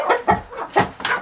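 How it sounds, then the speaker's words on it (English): A few quick, close clucks from chickens, uneven bursts of throaty clucking with no talking. "She just keeps pulling chickens out."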